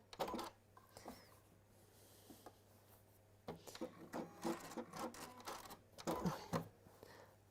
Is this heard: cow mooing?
no